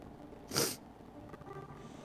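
One quick sneeze, a sharp breathy burst standing out briefly against a faint, quiet background during a Dark and Darker game session.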